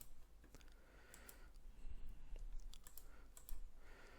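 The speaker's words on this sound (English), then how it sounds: "Just enter a value from your keyboard." Typing on a computer keyboard to enter a value, with a steady patter of soft, close key clicks in a quiet room and no talking.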